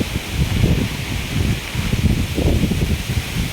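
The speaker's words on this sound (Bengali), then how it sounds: "প্রচুর বাতাস" Strong gusting wind during Cyclone Remal roars and buffets the microphone in steady surges, with rustling throughout and no voices.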